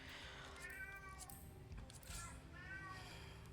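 House cats crying out in a room, a couple of stretched, wavering meows separated by short pauses, faint and a little distant over steady low room noise, ending with a sharp click.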